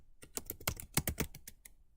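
Fast typing on a computer keyboard, about a dozen crisp, uneven key clicks in quick succession, close and fairly loud with no talking.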